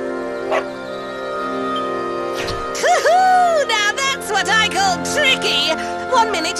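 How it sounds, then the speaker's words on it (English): A game dog in Dragon Quest XI, a woodcutter magically turned into a dog, gives a string of yips, whimpers and barks, loud and close over music, in uneven bursts with short pauses. "the next minute you're a smelly old dog"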